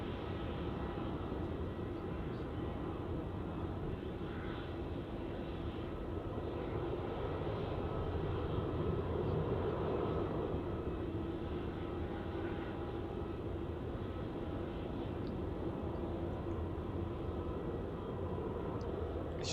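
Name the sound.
Qantas airliner on the runway at Melbourne Airport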